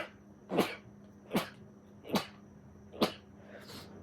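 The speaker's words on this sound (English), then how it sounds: "I may have to sneeze." Four short, sharp bursts spaced roughly evenly, each a quick explosive nasal-throat sound like a person's sneeze or sneeze-like cough, fairly close and alone with no talk over them.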